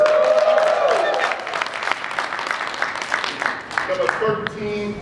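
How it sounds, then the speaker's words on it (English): An audience applauds at a business seminar after a top income earner is introduced, steady loud clapping that fills the room and then slowly thins while a voice speaks over it. "Give him a round of applause."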